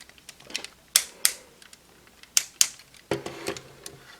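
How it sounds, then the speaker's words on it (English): Sharp ratcheting clicks from the waist joint of a DX King-Ohger toy robot being turned, coming in close, distinct pairs with softer ticks between them in a quiet room. "It is a clicky waist joint, so it will hold the position quite well."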